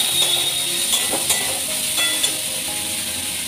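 Chicken and chopped onion added to hot oil in a home kitchen pan, a steady close sizzle with a few soft clinks and stirring scrapes.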